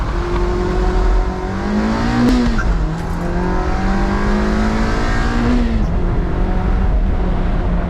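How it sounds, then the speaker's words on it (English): A tuned Mazda Miata's engine revs hard on a launch-control start with the clutch held and the car accelerates, its pitch climbing through the gears with brief dips at each shift, loud and close throughout. "in order to activate the launch control, I hold the clutch down and press on the gas"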